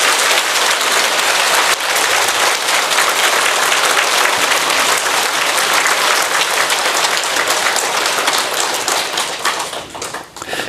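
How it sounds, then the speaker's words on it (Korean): Audience applause at a Buddhist dharma talk in a Korean temple: loud, dense clapping from a large crowd that holds steady for about ten seconds and then thins out near the end. "고맙다는 뜻으로 박수를 다시 한번 드립니다."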